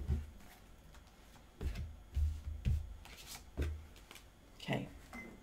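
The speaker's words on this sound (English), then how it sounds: "I'm going to cut the cards" Tarot cards being cut and shuffled by hand at close range, a series of soft riffling flutters and taps spread across a few seconds, with faint murmured talk in the background.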